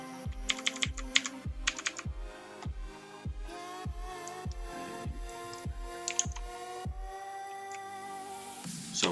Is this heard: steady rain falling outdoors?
no